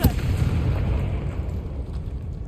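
Confringo fire spell from Hogwarts Legacy exploding, a sudden sharp blast followed by a rumbling, crackling tail that fades over a couple of seconds, with no speech.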